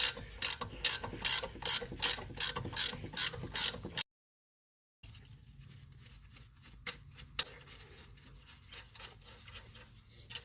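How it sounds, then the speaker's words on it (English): A hand ratchet with a 17 mm socket loosening suspension nuts on a 1993 Nissan 300ZX during a coilover install, giving a steady run of rapid close clicking for several seconds, then a pause and faint scattered clicks and handling noise. "So I got a ratchet 17 on there now. I'm gonna go ahead and keep taking this off."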